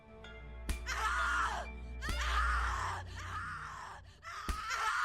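Drawn-out, strained screams and groans from The Cat Lady video game, several long anguished cries broken by sharp hits, loud and close over a low droning background.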